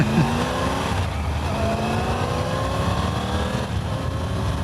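A Triumph Tiger 900 adventure motorcycle engine running while riding with the throttle gently feathered, a loud steady drone with slowly rising tones and constant wind rush, no talking.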